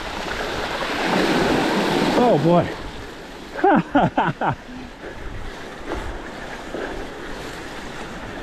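Rushing river water and wind noise while riding a Yeti full-suspension mountain bike toward a river and beach, a steady broad wash broken by brief exclamations from the rider.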